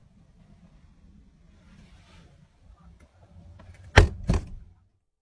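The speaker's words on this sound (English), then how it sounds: "the uploader bangs his fist on the inside of the truck" Two heavy thumps of a fist banging on the inside of a truck, loud and close, one right after the other, breaking a quiet low rumble.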